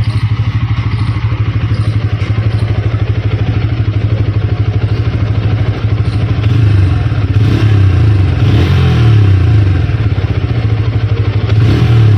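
New Bajaj Pulsar N160 motorcycle engine running up close, a loud, steady rapid thumping idle that rises into revving and throttle blips in the second half.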